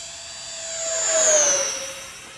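E-flite A-10 Thunderbolt II 64mm EDF radio-controlled jet passing overhead, a high ducted-fan whine that swells as it nears and bends downward in pitch as it moves away.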